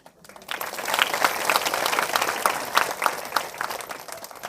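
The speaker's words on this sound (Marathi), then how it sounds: "तुम्ही टाळ्या वाजवल्या" An audience at a devotional gathering marking a saint's death anniversary breaks into applause, many hands clapping in a dense, fairly loud burst that swells quickly and holds for several seconds.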